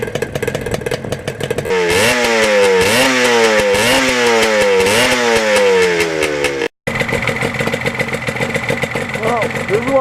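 A Yamaha RD400 two-stroke motorcycle out on a ride, its loud buzzy engine rising and falling in repeated rev swells through the gears, heard close with steady wind rush.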